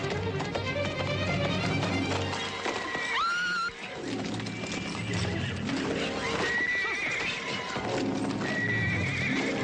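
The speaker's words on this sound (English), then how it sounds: "The horse's hooves." In a Western drama scene, a horse gives a loud, shrill whinny partway through while hooves clip-clop steadily throughout, all set against a dense, busy soundtrack.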